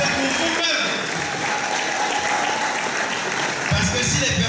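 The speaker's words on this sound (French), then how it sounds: "Applaudissez pour vous-même." An audience at an evening gathering bursts into sustained applause, a thick continuous roar of clapping hands, with a voice rising faintly near the end.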